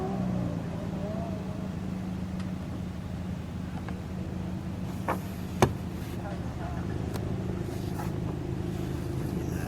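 A burgundy 1969 Chevrolet Corvette with a four-speed and L89 427 engine runs with a steady low rumble, heard from nearby outdoors by a forest, with a couple of brief clicks or knocks over the drone.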